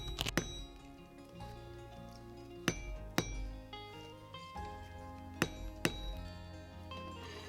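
A rubber mallet strikes a rivet setter to drive a rivet cap down onto leather: about five sharp, close knocks, some in quick pairs, over a steady tonal background.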